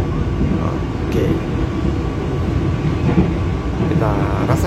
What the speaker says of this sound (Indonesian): Kita rasakan kereta ekonomi